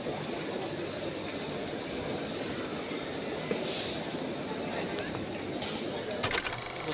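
Busy railway station in Mumbai at midday: a dense, steady wash of crowd murmur and ambient platform noise, with faint rail clatter and a few sharp clicks near the end.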